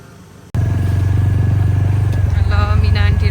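A scooter ridden on a sloping road, its engine starting abruptly and then holding a loud, steady drone up close, with a voice briefly audible near the end.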